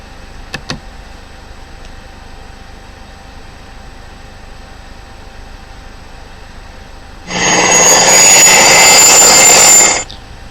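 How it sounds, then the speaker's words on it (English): Helicopters lifting off and leaving the map in a tactical war game, a loud steady rotor-and-turbine roar that surges in for about three seconds near the end after a long quiet stretch with a couple of faint clicks. "So helicopters are starting to leave the map now."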